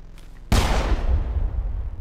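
A single gunshot from the video game Mass Effect, a sudden sharp blast with a booming, decaying rumble that lingers afterward.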